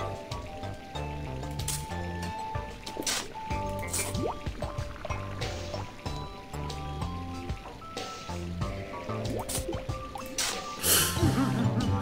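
Water flowing and trickling in the puzzle game Where's My Water? 2, with bubbly, dripping liquid sounds layered over steady tonal game music.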